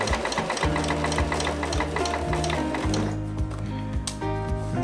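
A sewing machine runs steadily, stitching a baker boy cap with a 1 cm seam allowance, its rapid needle rhythm close and continuous, slowing briefly near the end before picking up again.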